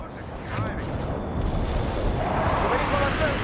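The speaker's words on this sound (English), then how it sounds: "call in artillery and airstrikes on them" Artillery barrages and airstrikes rumble in World in Conflict, a dense, continuous roar of distant blasts and booms that builds after the first half-second and keeps rolling without a break.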